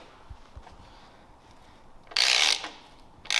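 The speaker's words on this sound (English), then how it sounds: "So I can see the tool winding up." A power tool drives a MAC F.O.R. extractor and winds up, giving one loud, harsh mechanical burst partway through and another starting right at the end, with quiet stretches between.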